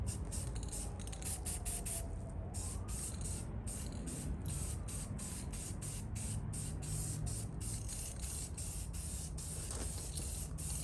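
Cheap black spray paint from an aerosol can coats a 2002 Honda CBR600F4i motorcycle part in short repeated hissing bursts, close and fairly quiet, without talk.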